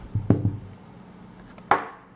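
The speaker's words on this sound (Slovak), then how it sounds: "Mince si vysypeme sem." Old coins soaked in Coca-Cola are tipped out onto a surface, making a couple of quick, close knocks followed by a brighter clatter.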